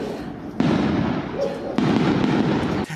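Fireworks bursting on New Year's Eve, a dense continuous barrage of crackling pops and booms with two sharp louder onsets, close and loud throughout.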